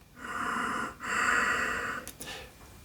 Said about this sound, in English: So you should have this ocean sound. That's the ocean breath, or the ujjayi.